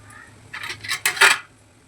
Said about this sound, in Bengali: এখন আমার এই বড়াটা ভাজা হয়ে গেছে, এটা আমি এখন একটা প্লেটে তুলে নেব।